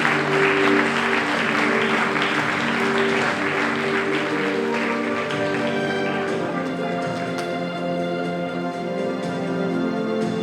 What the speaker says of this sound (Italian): Fate un altro applauso